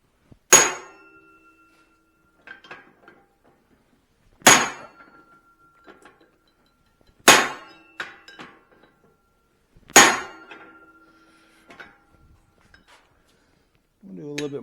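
A hammer forging a Swedish style cross peen on an anvil, four loud ringing clangs spaced a few seconds apart, each followed by lighter taps and a fading ring, with a voice briefly at the end.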